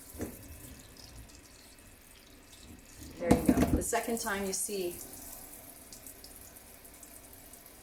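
Water poured evenly over a tray of sunflower sprouts, a short burst of splashing and trickling that swells for about two seconds, close by, with a person speaking over it.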